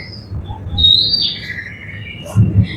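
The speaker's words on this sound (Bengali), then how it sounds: "একটু পাখিদের ডাক থাকবে" Bird chirps and tweets played over a loudspeaker at a bird park in Pelling, West Sikkim, ring out over a low background rumble, several short calls in quick succession with a slightly distant, amplified quality.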